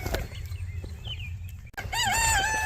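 Chickens cluck and squawk nearby, then a rooster crows loudly and clearly over the flock's ongoing chatter.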